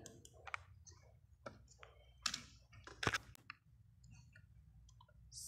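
Several sharp computer mouse clicks scattered among quiet typing-like taps during a classroom computer practical, close and fairly soft, with a teacher speaking between them.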